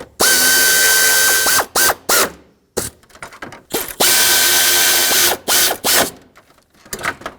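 A ratchet drives 10mm bolts into the radiator core support of a 2013–2020 Nissan Pathfinder, loud and close, with long runs of rapid pawl clicking broken by short bursts and pauses, repeated twice, no talking.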